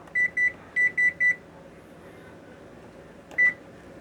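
Kitchen timer beeping while zucchini boats bake, with two quick beeps, then a run of three, and one more after a pause, close and clear over quiet room hiss.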